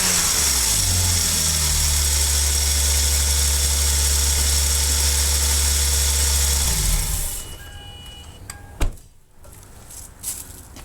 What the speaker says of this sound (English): Now watch what happens when I rev it.